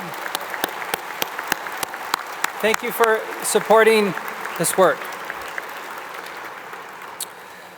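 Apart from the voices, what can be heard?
audience applause for committee members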